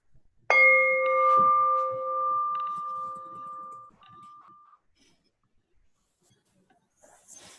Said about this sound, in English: I'll ding the bell when that 5 minutes is up.